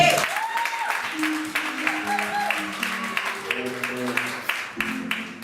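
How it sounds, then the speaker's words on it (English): A church congregation clapping during a Christmas Eve service, a steady dense round of applause close by with sustained organ or keyboard chords playing underneath throughout. "Come on, clap for her."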